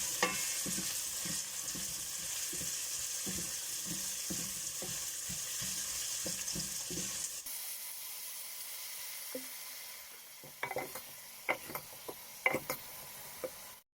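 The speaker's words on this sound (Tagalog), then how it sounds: "Magluluto tayo guys ng pork adobo." Pork adobo sizzles and fries in a home pan, with a steady hiss and repeated stirring scrapes for the first half. The frying then quiets, leaving scattered clinks and utensil knocks.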